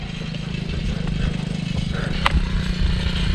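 A steady, buzzing motorcycle engine drones at close range, holding a fairly even idle with a faint rattle and a brief sharp knock near the end.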